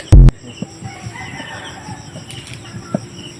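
Chickens and about twenty month-old late-born chicks in a cage, with one loud burst of wing flapping at the start followed by faint, scattered clucks and peeps in the background.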